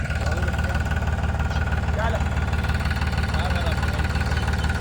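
A steady, low Farmtrac tractor engine idle rumbles continuously throughout, with faint voices in the background.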